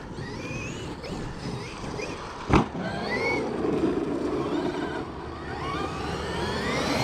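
A Traxxas XRT RC car running in cold weather, its motor whining and rising as it accelerates at a distance, with a sharp thump midway.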